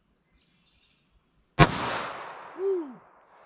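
A snub-nose .38 Special revolver fires a single 213-grain lead round-nose load outdoors: one sharp, loud report that trails off in a rolling echo, with faint birdsong before the shot.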